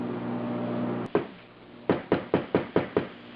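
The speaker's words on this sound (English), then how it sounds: "Once the seal is started in the hole, it then gets carefully tapped into place with a soft-faced hammer." A seal for a 1976 Mazda RX-5 Cosmo 13B rotary engine is being tapped into place with a soft-faced hammer: one knock, a pause, then six quick even taps in a steady rhythm, close and clear after a fading hum.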